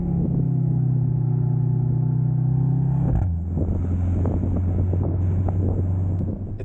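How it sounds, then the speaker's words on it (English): Engine of a 2023 Mercedes-AMG GLC 63 S E hybrid starting up in comfort mode, heard from inside the cabin: a steady low hum gives way to a deeper rumbling drone with some wind noise. "You can hear the engine come alive."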